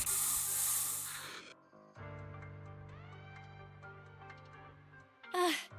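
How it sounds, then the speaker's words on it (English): Special bamboo spray in the Zenless Zone Zero video game gives a loud, broad hiss for over a second, then cuts to music and tones before a second short hissing burst near the end. "Here, have a taste of this special bamboo spray."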